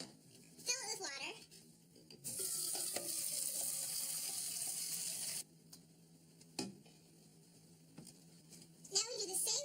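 Tap water runs into a drinking glass in a home science demonstration, a steady gushing stream lasting about three seconds, with voices speaking before and after.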